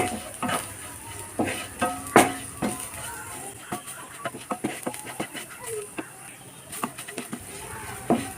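Spoon scrapes and taps against a pan as coriander powder and other spice powders are stirred and fried, irregular clinks over a faint sizzle, close but fairly quiet.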